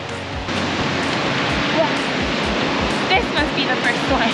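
Rushing river and waterfalls along a trail at Porcupine Mountain, a steady broadband roar of moving water heard close and continuous, with faint footsteps and light knocks over it.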